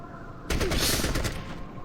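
Gunfire in the Fallout Tactics video game, a sudden loud burst of rapid automatic shots starting midway and carrying on with a fading rattle after a quiet lead-in.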